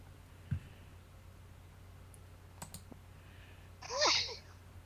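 A single sneeze bursts out near the end, close and fairly loud, after a few faint clicks over a quiet room hum.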